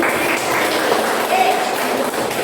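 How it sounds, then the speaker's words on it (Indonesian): A seated audience at an Indonesian gathering applauds loudly and steadily, a continuous dense wash of clapping across the whole stretch with a faint tone rising briefly above it. "Yuk, beri tepuk tangan yang meriah untuk kita sendiri."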